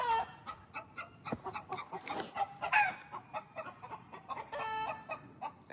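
Chickens on an off-grid homestead cluck and squawk in a busy, overlapping chorus, several birds close by with short repeated calls and a brief crow-like cry, no talking.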